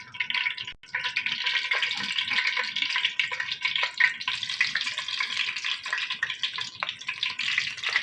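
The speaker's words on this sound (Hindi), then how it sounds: "घी गर्म हो गया। अब इसमें रोल डालेंगे।" Aloo chicken bread rolls coated in breadcrumbs frying in hot ghee in a kadhai, a steady close, dense sizzle with continuous crackling and bubbling that runs unbroken throughout, with no voices over it.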